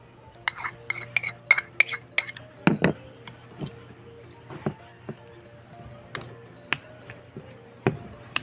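Garlic, onion leaves and black pepper mixed together in a bowl, giving a run of scattered clinks and scrapes of a utensil against the bowl, irregular and close, with no talking.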